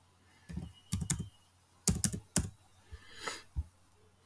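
Someone types on a computer keyboard while entering figures into accounting software. Separate key clicks and short rapid bursts come close up against a quiet background.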